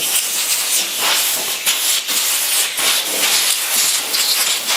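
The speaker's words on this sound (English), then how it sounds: "we're going to take the air hose. Just do a quick blowing off in the corners, little nail holes." Compressed air hose blowing into the corners and small nail holes of a coffee table, loud hissing bursts with a steady leak hiss underneath, close and continuous with short pulses.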